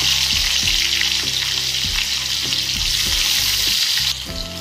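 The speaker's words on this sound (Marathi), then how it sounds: "तेल टाकून घ्यायचं, जीरा अर्धा चमच, कांदा" Half a spoon of cumin and onion frying in hot oil, a loud close sizzle with regular spoon clanks against the pan, then the sizzle drops off suddenly near the end.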